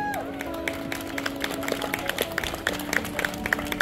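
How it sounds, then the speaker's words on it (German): A crowd applauding with scattered cheers after a sword-fighting display at Schloss Thurn, dense clapping rising and falling continuously, with some sharper claps standing out near the end. "Jubel und Applaus!"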